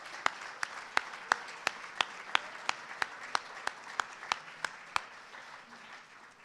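An audience at a hall of fame breakfast claps along in a sharp, regular rhythm of about fifteen loud hand claps over a murmur of applause, fading out toward the end.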